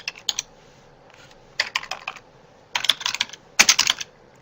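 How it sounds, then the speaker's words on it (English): Rapid bursts of clicky typing on a computer keyboard, four separate flurries of keystrokes with short pauses between, close and crisp. "Let me type."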